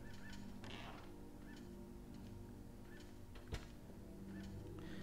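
Squawking bird calls from the video game Indigo Prophecy, a few short honking cries repeating over a steady low background hum with a brief sharp knock near the end.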